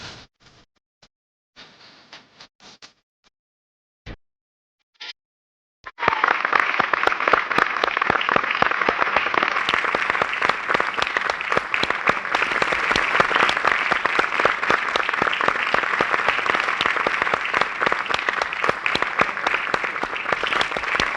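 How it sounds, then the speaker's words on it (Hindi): A studio audience applauds a dance performance, sustained loud clapping that starts abruptly after a few quiet seconds and carries on evenly to the end. "तालियों की गड़गड़ाहट से जाहिर है कि ये डांस आइटम आपको बेहद पसंद आया"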